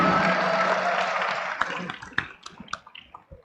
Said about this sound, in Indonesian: Teman-teman semua boleh kita beri tepuk tangan untuk Bang Anies Baswedan.